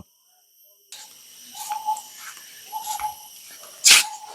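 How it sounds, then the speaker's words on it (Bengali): Crickets chirp in a steady, high-pitched drone across a quiet forest in Sreemangal, Bangladesh, joined by intermittent low calls and one sharp, loud burst near the end. "বনের ভিতরে দেখেন ঝিঝি পোকার শব্দ"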